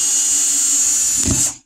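A power drill with a bit driving number 2 Phillips screws during boat seat upholstery work, one short high whine running steadily, a brief thud of bite near the end, then stopping abruptly.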